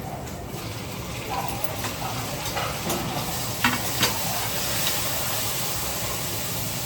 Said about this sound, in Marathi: त्यामध्ये आता टोमॅटो टाकलेत आणि हे छान असं स्मॅश होईपर्यंत आपण हे छान भाजून घेऊया.